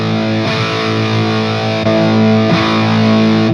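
Heavily distorted electric guitar chords through a Hughes & Kettner TubeMeister Deluxe 20 tube amp ring out loud and saturated, sustained with a couple of fresh strums partway through.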